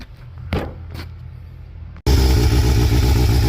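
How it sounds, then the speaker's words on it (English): A motorcycle starts on a rainy morning: a low idle hum with two brief starter bursts, a short cutout, then the engine catches and runs loud and steady with a rough, pulsing rumble. "Starting the bike on a rainy morning"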